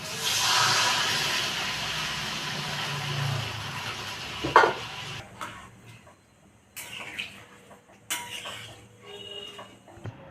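Water poured into a pan of fried spiced potatoes for Bengali aloo dum, hissing and sizzling loudly at first, then a sharp clatter before the sizzle fades to quieter bubbling with a few brief knocks.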